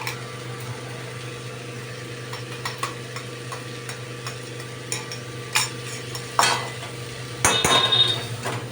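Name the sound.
stirring and sautéing vegetable paste in pan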